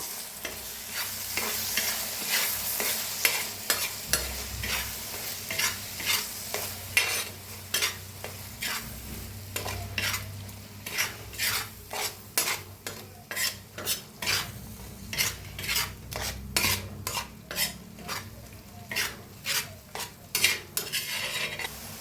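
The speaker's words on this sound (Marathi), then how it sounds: "आता जे वाटण बनवून घेतलं होतं ते आता भाजून घेऊया ह्या बी मसाल्याला" Ground masala paste roasts in a pan as a spoon stirs it steadily, sending rhythmic scraping strokes over a continuous close sizzle, the strokes growing quicker and more regular toward the end with no talking.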